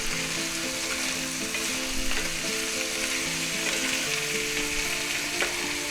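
Ground beef stir-fried with vegetables gives a loud, continuous sizzle close by, with a few stirring scrapes and no voices.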